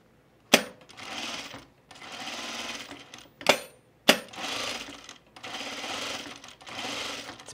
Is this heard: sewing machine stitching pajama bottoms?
yes